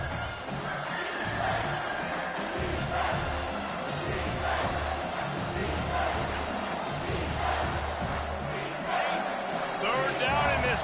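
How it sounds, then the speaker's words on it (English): Stadium crowd at a college football game with South Carolina, roaring continuously as a dense, loud wall of noise with no letup, heard from within the stands. "Third down, and this crowd is tearing the lid off this place."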